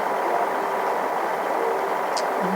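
Tractor engine in the video game Farming Simulator 14, a steady droning idle with a constant midrange hum, unchanging and close, with no talk over it.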